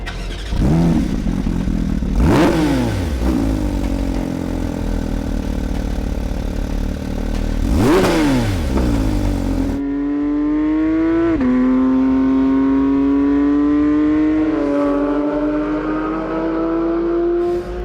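A 2022 Porsche 911 GT3 RS engine revving loudly, a few sharp blips up and down, then a sustained high-pitched climb through the gears, heard up close with no talking.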